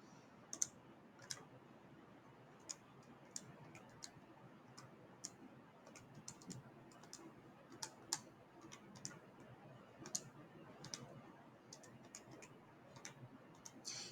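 Fingers tap numbers into a calculator, a string of faint, light plastic clicks in an uneven rhythm, heard near and alone in a quiet room.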